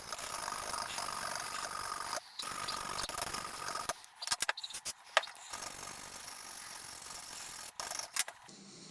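Small brush scrubbing contact-cleaner-soaked pins on a Nintendo console connector, giving a close, steady scratchy rasp with a few short pauses and clicks, no talk.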